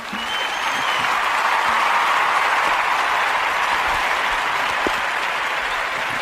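Steady, dense applause from a live audience greeting a podcast guest, rising quickly and holding loud and even for about six seconds with no talk over it.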